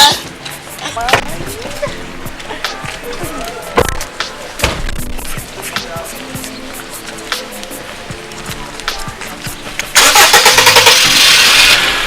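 Car engine starting with clicks and cranking, then catching into a loud, rough, steady run near the end, close by, amid scattered knocks and bumps.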